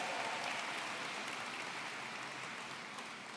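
Steady applause from a large crowd at a university convocation ceremony, a continuous wash of clapping at moderate distance that slowly fades slightly.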